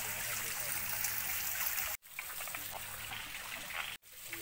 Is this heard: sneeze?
no